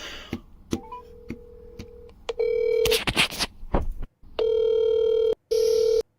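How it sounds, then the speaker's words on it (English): A telephone is repeatedly dialed and hung up: sharp clicks and keypad tones, then bursts of steady dial tone cut off abruptly, several times in quick succession. "he's just dialing and hanging up immediately and dialing again"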